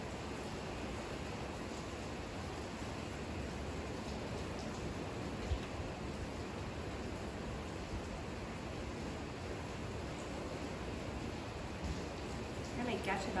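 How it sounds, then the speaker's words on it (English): Heavy rain pours down outside as a steady, dense hiss that fills the whole stretch evenly, fairly faint and unbroken, with no distinct drops or gusts standing out. "Really pouring down out there now."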